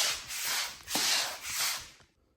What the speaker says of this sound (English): when you drag your shower slides on the ground